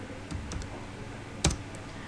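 A few scattered computer keyboard keystrokes entered at a Linux shell, sparse soft clicks with one sharper, louder tap near the middle, with no talking.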